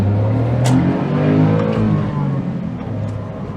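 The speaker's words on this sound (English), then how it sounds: "let's give it a full 0 to 60 bean test" A 2007 Smart Fortwo W451 Passion with its small engine pulls hard from a standstill toward 60 mph, a steady loud engine drone rising in revs from inside the cabin, with a brief dip mid-run as the gearbox shifts.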